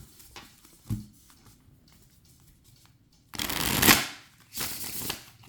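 Two bursts of tarot card deck shuffling, the second long riffle loud and close, followed by a shorter one, with quiet pauses and faint handling between.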